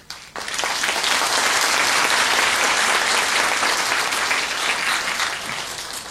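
An audience bursts into applause after a brief quiet moment, a dense, loud and sustained clapping from many hands that carries on steadily and begins to thin slightly toward the end.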